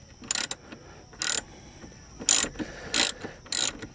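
A hand ratchet tightens a nut onto a vehicle's lower shock bolt in five short bursts of rapid clicking, close and fairly quiet, with pauses between strokes.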